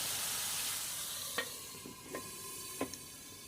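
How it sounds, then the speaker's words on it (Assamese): Pointed gourd and potato curry with tomato fries in a covered pan, a quiet steady hiss with a few sharp metallic clinks of utensil or lid. "এতিয়া এইখিনি অলপ সময় আমি ঢাকন মাৰি ভাজিবলৈ দিম।"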